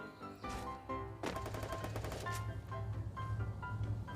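Rapid bursts of automatic gunfire in the mobile shooter game Free Fire, close and continuous over game music and effects, with a dense stretch of quick repeated shots in the middle.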